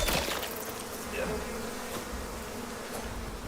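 Bees in the survival video game Icarus give a thick, constant buzzing swarm drone that fills the whole stretch, loud and close with no pauses.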